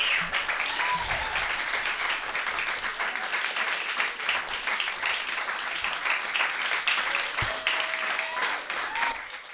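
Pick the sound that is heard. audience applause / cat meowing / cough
audience applause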